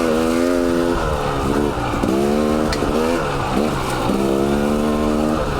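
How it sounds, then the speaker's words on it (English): Brembo brake pads on a 2019 KTM 300 XC-W dirt bike squeal in repeated bursts over a running engine, the high tonal screech rising and falling with each brake application, close and loud. "these pads on this bike have always been prone to a little bit of squeal"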